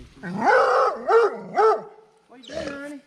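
A dog at a customer's barn gives a few close, loud barks and yips in quick succession, with a person speaking nearby.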